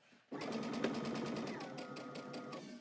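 Sewing machine backstitching fabric while a Simplicity pattern garment is sewn, a quick close run of rhythmic needle clatter that starts abruptly and keeps a steady pulse to the end.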